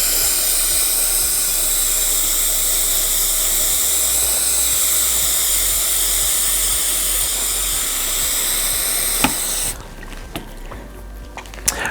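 Aircraft paint stripper sprayed onto copper and brass to lift clear coat, a loud steady hiss running continuously for about ten seconds close by, then cutting off into quieter handling clicks.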